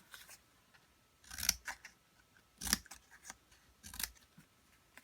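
Scissors snip notches into a paper box, making a few sharp, crisp cuts in separate bursts close by, with quiet pauses between them.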